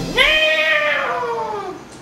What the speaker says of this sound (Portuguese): Os gatos.